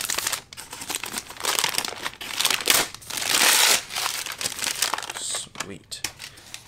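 Paper and bubble wrap packaging being unwrapped up close, with irregular bursts of crinkling, rustling and tearing and a longer crumpling stretch in the middle.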